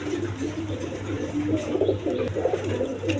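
Pigeons at a pigeon breeder's sale loft coo in low, repeated rolling phrases, close and fairly steady, with no talk over them.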